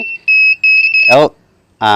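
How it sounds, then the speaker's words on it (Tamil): A shrill electronic rain alarm buzzer beeps in a few quick pulses, then stops as a person starts talking. "பார்த்தீங்களா, அலாரம் வந்து அடிக்க ஆரம்பிச்சிருச்சு."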